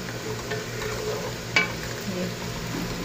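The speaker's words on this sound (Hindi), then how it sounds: "आप देख सकते हैं ये भिंडी फ्राई हो रही है" Okra (bhindi) fries in a pan for an aloo bhindi dish, a steady close hiss of sizzling oil with one brief clink of a utensil partway through and no voices.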